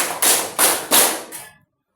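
Four sharp, evenly spaced claps from a class doing a counted clapping routine, close and loud, each a crisp burst followed by a short decay, then silence.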